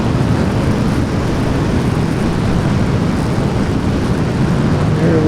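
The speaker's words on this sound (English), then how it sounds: "So here we go, and we'll be in the afterburner." Steady, loud F-15 afterburner roar in a flight video game, a continuous broadband rumble with no break.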